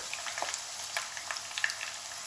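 Steady oily sizzle of bitter gourd frying in a pan, with scattered crackles and pops over a constant hiss; no voices.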